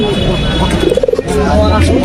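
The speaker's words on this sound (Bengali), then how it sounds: "এদিকে আরও কিছু কবুতর আছে" A pigeon coos at a pigeon market selling Giribaz, Pakistani and Lakka pigeons, a short rolling burst of throaty warbles standing out close and clear over a busy background of crowd murmur and noise.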